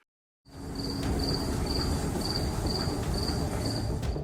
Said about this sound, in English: This poor unsuspecting cricket was just chilling out, looking as normal as can be.